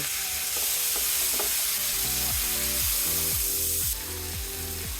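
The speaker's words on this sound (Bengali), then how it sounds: "পেঁয়াজ আর আলু আমি একসাথে ভেজে নেব" Chopped onion and long-sliced potatoes fry together in a pan over medium heat for a Bengali fish curry, with a continuous sizzle and a steady run of rhythmic scraping stirs.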